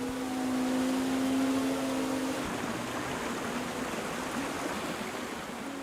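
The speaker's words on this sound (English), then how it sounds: "They're powered by the flow of the river itself, pushing on the flat paddles of the wheel." River water flowing past and turning wooden paddle water wheels, a steady broad rushing wash with a faint low hum early on, continuous and even throughout.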